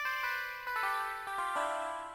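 A bright T-Nex Pluck synth from a Serum bank plays a short melodic line, notes ringing with sustained harmonic tones and quick attacks, steady and moderately loud.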